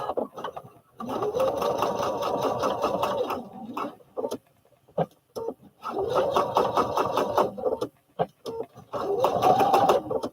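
Stitching elastic onto a baby fall-protection pillow, a sewing machine runs in three long, close bursts of rapid mechanical chatter, with brief clicks and handling noises in the pauses between.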